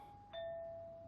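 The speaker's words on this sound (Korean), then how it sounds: "초인종 소리가 방 안의 침묵을 깨버리죠" A home doorbell rings once, with a bright electronic ding-dong whose tone rings on and slowly fades, heard alone in a quiet room.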